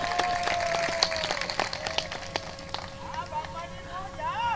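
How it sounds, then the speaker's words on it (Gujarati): An audience at a Shivratri folk performance claps in a scattered, uneven burst that rises and thins over a few seconds, while a sustained tone and a voice carry above the applause. "આ વધાવવાનું તાળીઓથી વધાવો"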